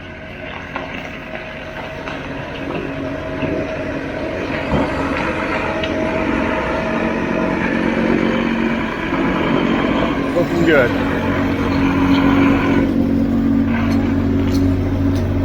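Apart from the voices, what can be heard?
concrete pump truck engine running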